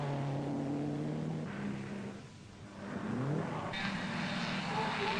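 Jack Brabham's 1959 racing car roars down the straight toward the checkered flag, its engine note climbing and falling with a brief dip mid-pass, loud and steady and with no talking.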